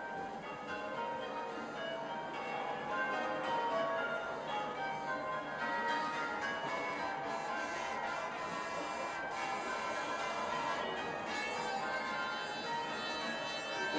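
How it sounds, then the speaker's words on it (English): Church bells ring steadily in the distance during Queen Elizabeth II's Diamond Jubilee river pageant on the Thames, a dense wash of overlapping peals with crowd murmur underneath, continuing throughout. "I was just about to mention the bells, the Belfry heading up this pageant here today."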